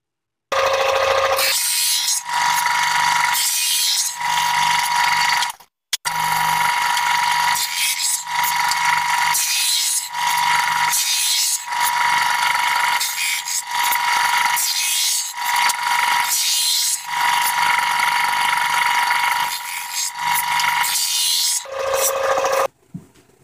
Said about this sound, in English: this is a homemade drum sander